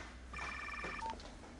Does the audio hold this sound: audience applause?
no